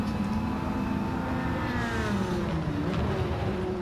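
A Maserati race car in a GTCC race at Barcelona drones past, its engine a steady, fairly loud whine whose pitch slides slowly as it passes, with no voices over it.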